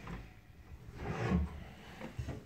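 A wooden drawer in a bedroom wardrobe of a Rome apartment slides open or shut with a soft rubbing scrape, followed by a dull knock, fairly close and alone.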